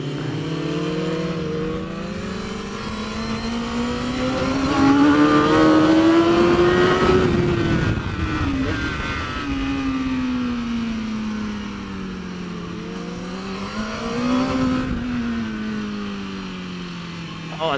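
A BMW S1000RR superbike engine howls in third gear around the Mission Raceway track, its pitch climbing steadily, dipping briefly, then rising again in a second surge, loud and continuous close to the rider.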